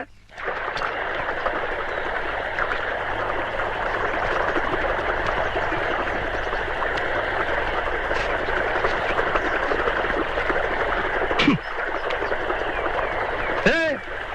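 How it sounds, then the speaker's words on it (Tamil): Water rushes steadily along an irrigation channel, a continuous broadband flow with a brief higher whistle near the end. "வாய்க்கால் எவ்வளவு தண்ணி போகுது"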